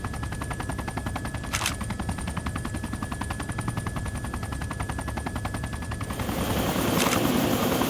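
A helicopter flies in Arma 2 DayZ mod, its rotor throbbing steadily and loudly throughout, growing fuller and louder over the last two seconds.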